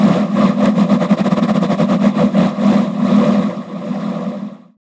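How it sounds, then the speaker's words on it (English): A futuristic vehicle engine sound effect hums steadily with a fast tremolo pulse, then trails off and fades out near the end. "we can make the engine sound like it's working harder."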